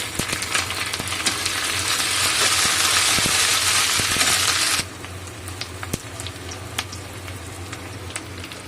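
Onions frying in a pan with ginger garlic paste added, a loud, dense sizzle that suddenly drops to a quieter crackle partway through, with occasional scrapes and taps of a utensil close by.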